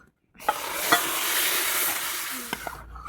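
Butter hits a hot wok to cook down into ghee, bursting into a loud, continuous sizzle and hiss after a moment of silence, with a few clinks and pops and no talking.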